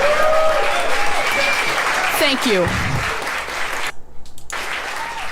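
An audience claps loudly and steadily, the applause fading out as a voice briefly thanks the crowd.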